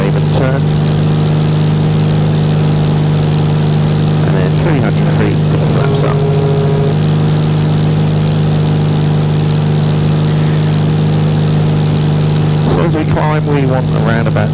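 A small airplane with a G1000 cockpit rotates and climbs after takeoff, its engine and propeller drone steady and loud inside the cabin while the pilot talks over it.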